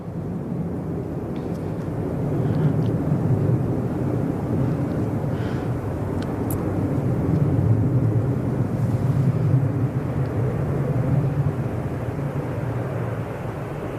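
Embraer airliner at Manchester Airport, a low, smooth engine rumble that swells and eases gently over the stretch, distant and fairly quiet, with no voices over it.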